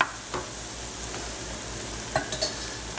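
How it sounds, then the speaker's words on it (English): Tofu scramble sautéing in a pan over medium heat, giving a steady soft sizzle with a few faint scrapes and stirring taps near the end, no voices. "Keep sauteing it on medium heat, but keep watch and just let it become a little bit more wilted"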